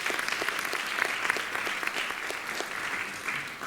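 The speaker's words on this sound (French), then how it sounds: "Merci Dominique pour ce témoignage aussi qu'on peut applaudir" An audience at a round-table climate forum in Quebec applauds with even, continuous clapping from many hands at moderate distance.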